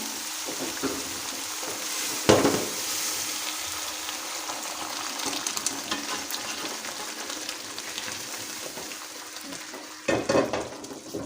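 Lentils hiss and sizzle as they are fried and stirred in spiced oil for achari dal, a steady, close frying crackle with louder bursts of stirring scrapes near the start and end.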